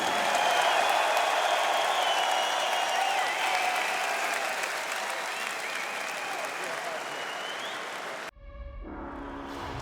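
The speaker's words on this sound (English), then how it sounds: "But before we will set his name, please give a big applause to Jaime Cordero." Crowd applauding and cheering loudly after an MMA fight, a dense steady roar of clapping that fills the arena for about eight seconds before cutting abruptly to other sound.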